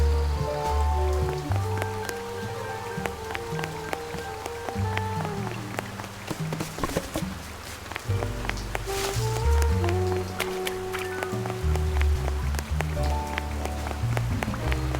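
Steady rain hisses in the Duck Detective video game, spreading across the whole scene under a layered musical score with sustained tones, a constant wet patter running alone and without talk throughout.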